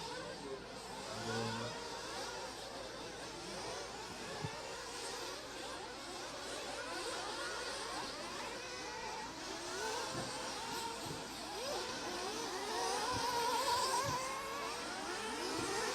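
Several 1/8 scale off-road RC race cars in a final at the European championship, their small high-revving engines buzzing and whining continuously at mid distance, rising and falling as they pass.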